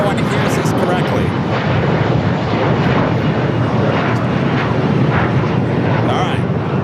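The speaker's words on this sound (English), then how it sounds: "We got a plane taking off." A plane takes off at LAX, a loud, continuous broadband jet roar that fills the whole stretch without letting up, with voices talking beneath it.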